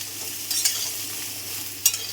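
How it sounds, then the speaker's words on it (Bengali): Vegetables for sambar fry in a pan, a brief stretch of gentle sizzling broken by a couple of quick spatula scrapes, with no voices. "এবার এগুলো আমি ভালো করে একটু ভেজে নেব"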